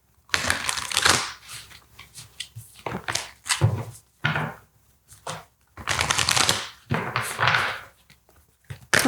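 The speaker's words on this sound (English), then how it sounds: "let's look into some oracle cards here." Oracle cards being shuffled by hand, repeated loud riffling bursts separated by short pauses, close up with no talking.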